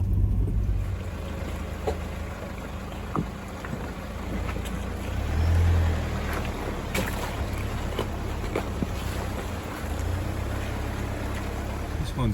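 A 4WD creeping slowly through a rough river crossing on a bush track, its engine a low steady rumble with water washing around the wheels throughout, someone talking over it.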